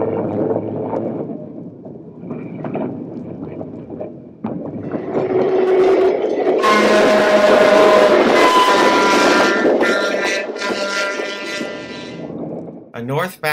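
A northbound two-car steel interurban train on the Northwestern Pacific pulls into Kentfield and then leaves again, with a steady rumble that swells and grows louder midway. A voice talks over the early part.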